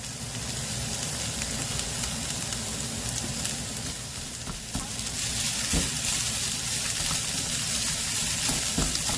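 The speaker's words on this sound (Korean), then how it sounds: "밥 넣고는 불 약불로 해가지고 볶는 게 제일 좋아요" Rice stir-fried in a pan over low heat with beef and japchae for diet tofu rice, giving a steady close sizzle and scraping for the whole stretch, fairly loud, with no talk.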